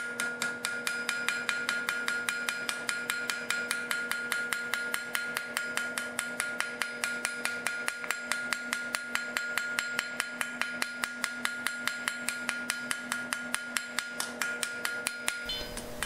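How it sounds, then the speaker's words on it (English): A ball peen hammer taps a metal piece in a fast, steady rhythm, texturing it, dozens of bright ringing strikes close up, continuing evenly throughout. "Take a ball peen hammer and texture the front piece as desired."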